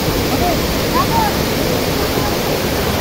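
Daranak Falls in Tanay, Rizal, a waterfall whose loud, steady rushing roar fills the scene, with faint voices of people nearby underneath.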